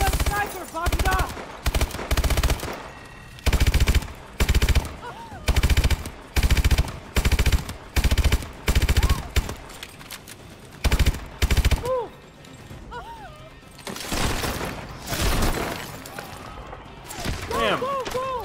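Rapid automatic gunfire in the Call of Duty: Advanced Warfare video game comes in repeated loud bursts during a street firefight, with voices calling out between and after the volleys.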